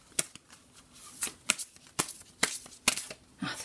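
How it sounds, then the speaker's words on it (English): A deck of oracle cards is shuffled by hand in a rapid sequence of crisp riffling snaps, about eight sharp bursts at uneven intervals, close and clear with no talking. "So this is why I've gone on shuffling."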